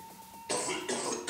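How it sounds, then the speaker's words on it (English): A person gives a short series of sharp coughs, three or four harsh bursts in quick succession after a faint hum. "should they cough?"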